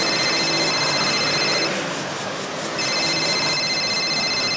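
A telephone rings steadily and loudly in an indoor scene, its tone dipping briefly midway before resuming.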